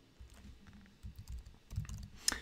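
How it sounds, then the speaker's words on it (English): Typing on a computer keyboard, a quick run of soft close key taps in irregular bursts ending in a sharper click, with no talk over it. "So I'm typing the word average."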